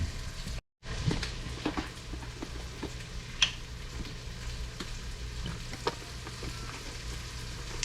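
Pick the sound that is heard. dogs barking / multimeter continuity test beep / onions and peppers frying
onions and peppers frying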